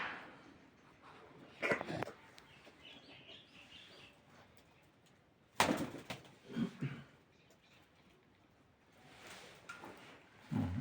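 Pigeons coo and flutter faintly in a pigeon loft at a home where birds are for sale, with a few short louder bursts of wing or cage noise between quiet stretches.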